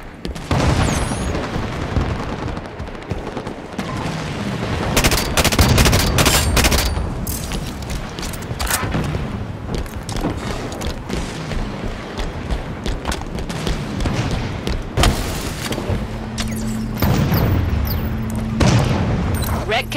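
Rapid gunfire and booming blasts in a Halo 5 Warzone match on the map March On Stormbreak, dense bursts and explosions throughout with game voice callouts mixed in.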